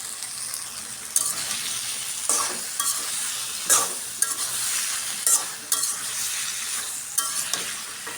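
Dried fish frying in a hot pan sizzles steadily while a utensil stirs and scrapes it in repeated strokes about every second, close and fairly loud, with no talking.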